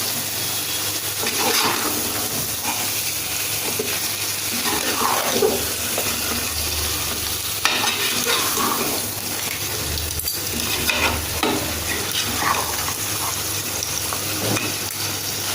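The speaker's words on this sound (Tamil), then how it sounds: "உப்பு சேர்த்து இதை நல்லா கலந்துருங்க." Crab biryani mixture stirred with salt in a hot pan, a continuous loud sizzle and frying hiss with scraping stirring strokes throughout, no talking.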